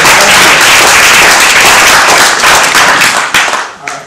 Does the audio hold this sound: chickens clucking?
no